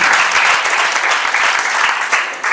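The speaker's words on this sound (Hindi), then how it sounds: "एक बार MRN ग्रुप के लिए जोरदार तालियां हो गई।" Loud, dense applause from a crowd at a company rewards and recognition event, sustained clapping filling the whole moment with a slight dip near the end.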